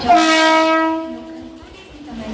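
A Mumbai local train at Dombivli station sounds a loud, sustained horn close by, its tone fading slightly as it passes, over rumbling rail noise.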